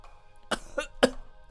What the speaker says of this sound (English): Said water goes down the wrong pipe. I cough aggressively.